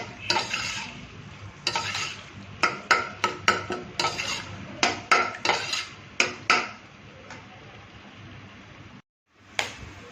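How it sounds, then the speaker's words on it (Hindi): Onions browning in masala in a pan for dum rice, a steady low sizzle under repeated sharp spoon scrapes and clinks against the metal, clustered in quick bursts, close and fairly loud, with a brief silent gap near the end. "अब हमें प्याज को हल्का सा ब्राउन करना है।"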